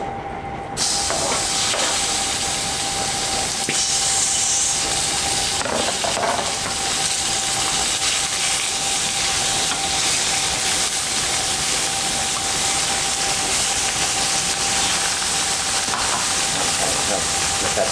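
Onions fry in a pan, giving a constant, loud sizzling hiss with faint crackles and a few soft knocks. It runs steadily with no voices.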